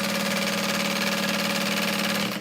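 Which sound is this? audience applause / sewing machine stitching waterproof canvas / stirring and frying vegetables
sewing machine stitching waterproof canvas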